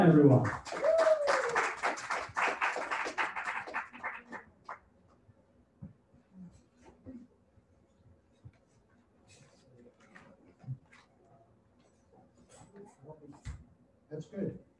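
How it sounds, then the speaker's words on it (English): An audience at an open-mic reading series gives a burst of applause for a poet. The dense clapping lasts about four seconds while a voice speaks over it, then fades to scattered small noises in a quiet room. "Big round of applause"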